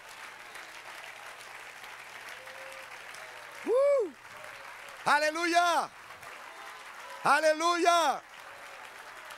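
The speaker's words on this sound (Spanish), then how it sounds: "Denle un aplauso, que se lo merece." A church congregation claps in a sustained, dense patter of applause, while a preacher's voice rings out in loud drawn-out shouts over it.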